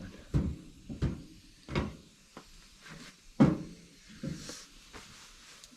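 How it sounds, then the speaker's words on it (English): A door on a solar-powered homestead is pulled shut with a series of close, sharp knocks and thumps, several bumps scattered over a few seconds in an otherwise quiet room. "So I have to close the door."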